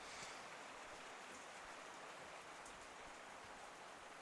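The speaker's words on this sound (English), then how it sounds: "You can see the rain absolutely tipping it down." Heavy rain pours down at a floodlit university rugby ground during an evening match between Cardiff Met and Hartpury, a steady, dense wash of hiss that fills the whole moment without a break.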